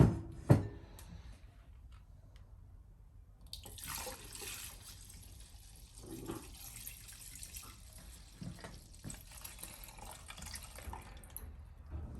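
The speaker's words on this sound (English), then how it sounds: "Now I'm going to add back the limoncello. I'm spilling some of it." Limoncello poured back into a 2.5 litre jar, some of it spilling, gives a steady liquid splashing and trickling after a faint knock, continuing close and moderately loud for several seconds with no talk.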